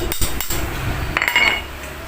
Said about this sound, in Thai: เดี๋ยวตอกไม้นิดนึงครับ